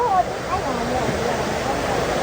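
River water flows in a continuous broad rushing wash close by, steady and fairly loud, while voices talk faintly over it.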